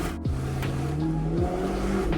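Stock car with an added exhaust accelerating in manual mode, engine note climbing in pitch and dropping sharply at each of two gear shifts, loud and close.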